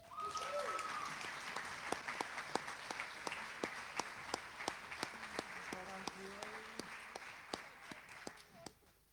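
Applause at a school senior academic awards ceremony, a room of scattered clapping, fairly faint and distant, with one close, sharp, regular clapper standing out throughout and a voice briefly at the start and middle.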